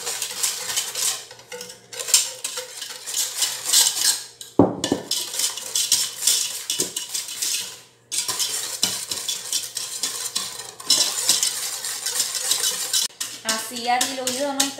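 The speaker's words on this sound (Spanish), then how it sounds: "Comenzamos a batir nuestra mezcla" Batter for a Venezuelan bread cake is whisked in a bowl, with rapid rhythmic scraping and clinking of the whisk against the sides. The sound is close and continuous with short pauses, and a voice speaks at times.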